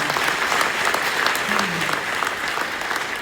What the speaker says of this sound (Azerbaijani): ona yenə də bir alqışlar